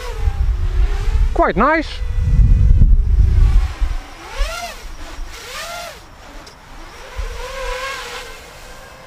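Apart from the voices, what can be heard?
Furibee DarkMax FPV racing drone flying on Gemfan propellers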